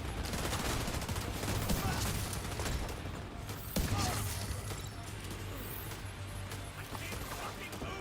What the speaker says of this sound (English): there's that guy 2 blocks away shooting at me